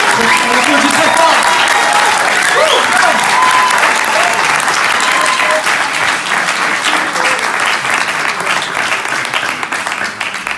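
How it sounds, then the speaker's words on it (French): Loud, sustained applause from a church congregation at a baptism service fills the whole stretch, with some voices mixed in, slowly easing off toward the end. "on applaudit très fort"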